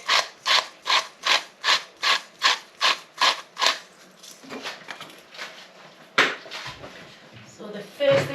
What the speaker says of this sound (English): So the first thing I'm going to do is I'll grate these little bits straight in.